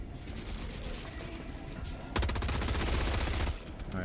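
Rapid automatic gunfire in the game Warhammer 40k Rogue Trader rattles loudly in a dense burst of about a second and a half, over a constant noisy battle backdrop.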